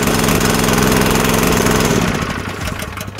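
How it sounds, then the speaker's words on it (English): A small engine on a water cartage fire-patrol trailer, started by wireless remote, runs loud and steady with a mid-pitched idling rumble, easing slightly toward the end. "you can start and stop the engine"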